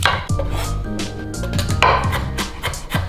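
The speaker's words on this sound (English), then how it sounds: "So I'm mincing some ginger right now." A knife minces fresh ginger on a cutting board for kimchi, a run of quick, sharp chopping taps, loud and close, repeated in an uneven rhythm.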